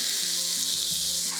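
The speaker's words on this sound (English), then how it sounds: "about a tablespoon of white vinegar goes in here" Steady hot sizzle of rice frying in a pot for Filipino garlic fried rice (sinangag) as about a tablespoon of white vinegar is added, a continuous bright hiss with faint low stirring sounds, no voices.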